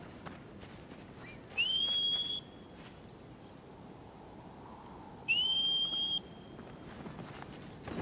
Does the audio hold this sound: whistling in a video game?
yes